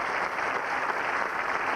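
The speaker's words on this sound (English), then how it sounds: "nice round of applause for Robert as he goes off back" A studio audience at a magic show claps for a volunteer returning to his seat, a brief burst of steady applause that is loud and fills the whole moment.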